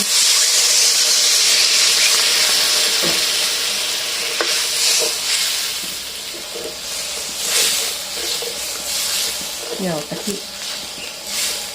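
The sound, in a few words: chili paste frying in coconut milk for Thai bamboo shoot curry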